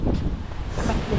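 Wind blows steadily outdoors near bushes, a loud continuous rushing buffeting the microphone for about a second, with no voices.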